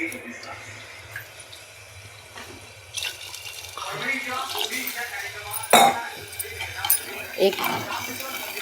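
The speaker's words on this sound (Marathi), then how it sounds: "आता त्याच्यानंतर आपण पाणी टाकूया." Water is poured into a pot of rice with fried spices in a home kitchen, a soft splashing pour that builds midway under a voice, with a few metallic clinks of utensils against the pot.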